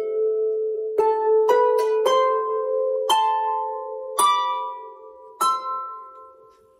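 A Manx harp plucks a slow series of about seven single notes stepping through triads, each ringing clearly and decaying in a quiet room, with no voice.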